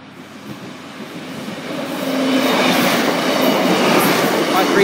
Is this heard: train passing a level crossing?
yes